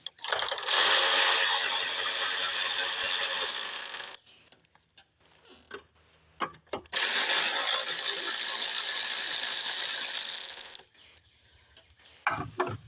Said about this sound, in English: I'm going to use my ratchet wrench just so the video will be quicker.